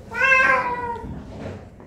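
A single drawn-out meow from a sick cat with urinary retention, fairly close and clear, rising then trailing off into quiet.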